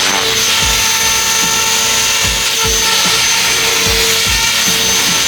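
Radio-controlled model aircraft flying shortly before landing: a loud, steady high-pitched motor whine throughout, with a rhythmic low pulsing under it, no voices.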